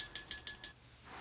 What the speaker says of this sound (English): I'm going to use these bells.